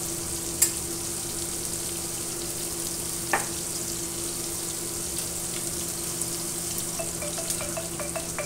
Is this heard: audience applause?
no